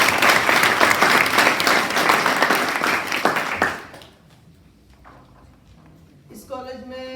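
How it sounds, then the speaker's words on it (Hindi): An audience at a college life skills workshop claps in loud, dense applause for about four seconds, then it drops away abruptly to near silence before a voice speaks. "अगर आप लोगों को अच्छा लगा हो तो एक बार सर के लिए तालियां बजा दें।"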